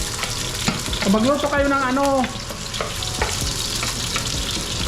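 Sliced onions hit hot oil in a pan while chicken adobo is cooked, giving a steady hiss that runs throughout, with a voice speaking over the first half and a few clinks of utensils.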